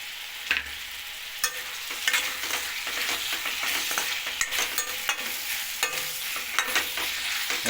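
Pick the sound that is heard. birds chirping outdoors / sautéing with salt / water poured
sautéing with salt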